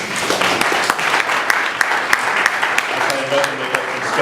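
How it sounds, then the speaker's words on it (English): Audience applause for a panel at an energy-sector dialogue event, a steady wash of many hands clapping at close to moderate distance, with scattered sharper claps throughout. "I invite you to please a round of applause for the panelists"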